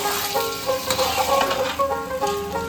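Marinated loitta fish (Bombay duck) being stir-fried over a low gas flame, a steady close sizzle with soft scraping stirs, no talking.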